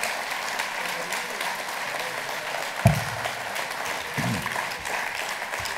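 Audience applause at a cdH New Year's reception in the province of Luxembourg, Belgium, honouring André Bouchard: steady broadband clapping from a crowd throughout, with a brief sharp thump near the middle and faint voices underneath.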